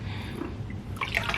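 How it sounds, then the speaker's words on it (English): Fabric softener is poured from a capful into a basin of water for soaking a synthetic wig, giving a short, close liquid trickle and splash with a brighter burst of dripping near the end. "So I'm gonna add about a capful of fabric softener. So let me just pour in"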